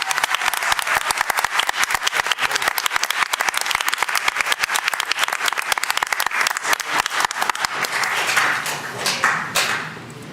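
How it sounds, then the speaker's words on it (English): Dense applause from a group at a city council meeting fills the whole stretch, steady rapid clapping that thins slightly toward the end. "let's applaud Nikhil on this great accomplishment."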